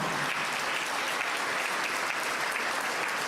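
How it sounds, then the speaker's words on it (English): Sustained applause from a crowd of construction workers at a building-milestone event in Buffalo, steady and dense clapping filling the whole stretch without pause. "So give yourselves a round of applause."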